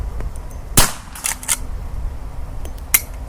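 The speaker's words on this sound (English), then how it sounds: "we're going to see how well it cycles through this ammunition now that it's at a different seating depth" Rossi R92 lever-action rifle firing reloaded rounds and cycling them, with sharp close shots and the metallic clack of the lever working between them, loud and spaced apart.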